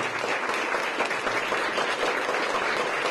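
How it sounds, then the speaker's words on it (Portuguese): Steady, dense applause from an audience at a ceremony where a new death certificate is handed to Vladimir Herzog's family, loud and continuous throughout with no pause. "Com uma salva de palmas"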